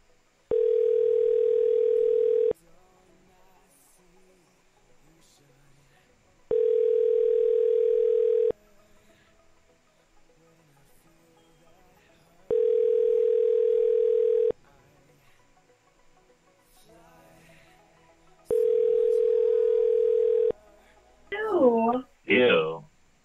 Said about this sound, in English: I can hear it ring now.